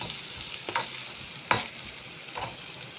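Chopped onions sautéing in a pan, a soft, fairly quiet sizzle with a few distinct stirring scrapes spaced through it.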